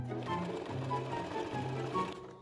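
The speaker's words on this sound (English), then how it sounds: "Set your machine to a zigzag stitch and shorten your stitch length" A sewing machine runs a zigzag stitch through fabric for cosplay gloves, its rapid mechanical whir pulsing in short even bursts, close and moderately loud.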